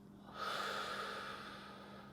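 A person takes a slow, deep breath during a relaxation exercise, a long airy inhale rising and holding steady, close and soft against a faint low hum.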